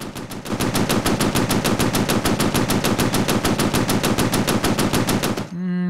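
Rapid automatic gunfire in the Xbox 360 game Breach, aimed at a bridge, rattles on as a loud continuous burst of evenly spaced shots for over five seconds, then stops abruptly.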